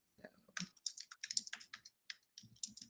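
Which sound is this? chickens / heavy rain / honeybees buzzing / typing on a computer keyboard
typing on a computer keyboard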